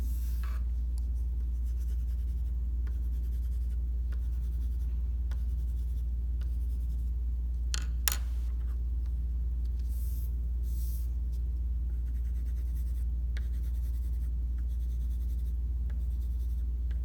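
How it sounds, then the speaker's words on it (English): Coloured pencils shade on paper in a steady, faint scratching that runs throughout alongside a low constant hum, with a few brief sharper strokes near the middle. "use the colored pencils to shade in each color of apples"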